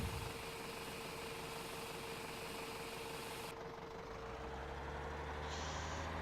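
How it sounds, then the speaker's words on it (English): A small tractor straining to pull a large tipper in Farming Simulator 17, its engine droning steadily under load with a constant mechanical whine, then shifting to a lower rumble as it settles. "I've got the small tractor pulling a rather large tipper, and it's using a lot of gas to get up to speed"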